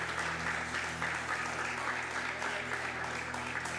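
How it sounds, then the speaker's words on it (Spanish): A church congregation applauds during a Sunday service, steady sustained clapping from many hands filling the room at moderate level, with a faint voice underneath. "De un aplauso al Señor."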